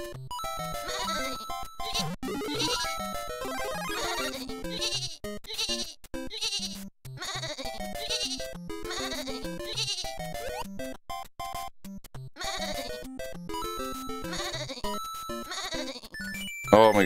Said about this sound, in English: Oh my god, I almost hit that sheep.